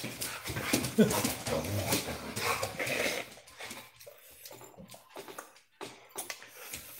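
Dogs whimpering and whining in short high yips at close range, mixed with faint household clatter and some background talk.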